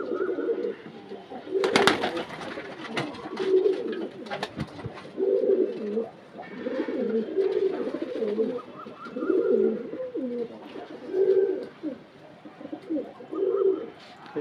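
Kalanka pigeons coo in a loft, repeated low throaty coos rising and falling in a steady rhythm close by, with brief rustling and a sharp clatter near the start.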